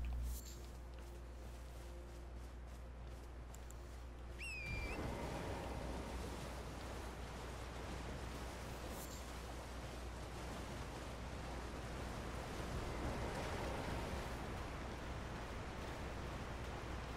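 Rushing waterfall in the Elden Ring DLC: a steady, dense roar of falling water that swells slightly louder partway through and carries on unbroken, with a few faint game chimes near the start.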